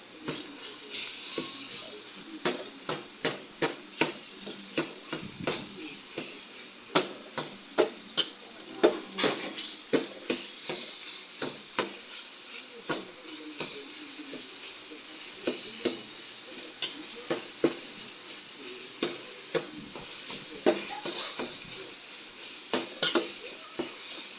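Boiled ground pork fries and is stirred in a pan for spaghetti, with a constant sizzle broken by many sharp spoon-on-pan clinks at an uneven pace, close up and without speech.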